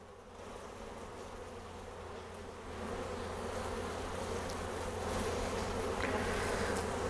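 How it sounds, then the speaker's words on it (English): A dense, steady drone of many honey bees buzzing close by, swelling slightly louder as it goes on, with no voices. "you can also shake these bees into a bucket"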